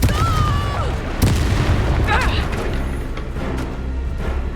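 In the Hogwarts Legacy video game, a Confringo spell explodes during combat. A deep booming blast with rumbling low end is followed by crackling effects and game sounds.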